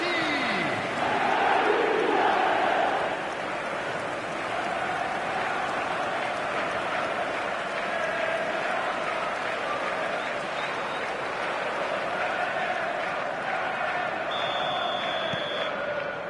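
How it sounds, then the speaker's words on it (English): Football stadium crowd in a video game, a broad continuous roar of chanting and cheering that swells loudly at first then settles into a sustained distant wash, with a commentator's voice over it. "The crowd are calling for this to be put to bed."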